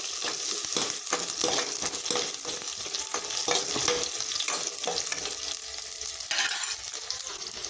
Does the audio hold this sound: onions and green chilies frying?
yes